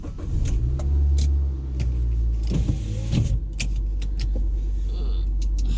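A car interior as the vehicle sets off, with a steady low engine rumble, a power window whirring briefly, and scattered clicks and small rattles from inside the cabin, fairly close and without speech.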